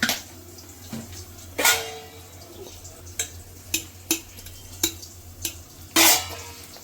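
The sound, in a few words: mixing hilsa fish with salt, turmeric and spice paste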